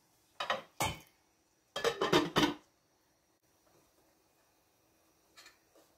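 Steamed carrots and Irish potatoes go into a crock pot with a few sharp clattering knocks of utensil against pot, bunched in two quick bursts, then near silence and one faint tap late on.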